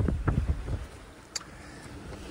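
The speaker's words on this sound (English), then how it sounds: "maybe 15 knots of wind" Wind gusts buffet the microphone aboard a sailboat in roughly 15 to 20 knots of breeze, with low rumbling bursts early and a softer steady rush afterward.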